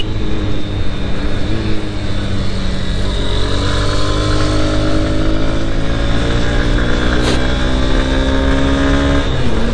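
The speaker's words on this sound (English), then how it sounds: "Engine sound is really nice" Honda Hornet 2.0 motorcycle engine heard while riding, a continuous close engine drone with rising and falling revs through gear changes, with wind noise and no talk.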